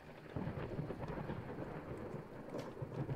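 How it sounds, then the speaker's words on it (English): Steady rain with low rumbling thunder in the horror video game Layers of Fear, a continuous stormy wash that holds at a constant level throughout with no talking. "It's raining."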